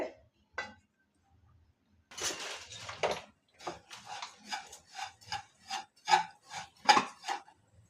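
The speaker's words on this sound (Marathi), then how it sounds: "तूप न टाकता कोरडेच भाजून घ्यायचे आपल्याला" Oats dry-roast in a hot kadai without ghee, stirred with a utensil, producing a series of close, dry scraping strokes that start sparse and grow into a quicker, regular rhythm against near silence.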